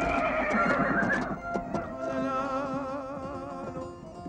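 A horse whinnies loudly and close by with a long wavering neigh, some clip-clop and faint voices mixed in, then a sustained tonal call that trails off over the following seconds.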